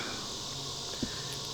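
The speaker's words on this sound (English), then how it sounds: "As you can hear, these cicadas are back." Cicadas buzz outdoors in a steady, unbroken high-pitched drone that fills the whole moment, with a soft faint knock partway through.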